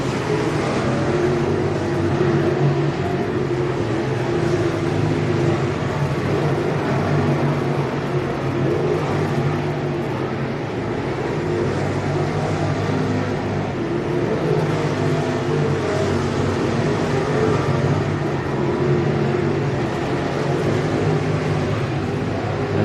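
Race cars roar through hot laps at Needmore Speedway in Norman Park, Georgia, a continuous loud engine drone rising and falling as the cars circle the track, heard from the stands.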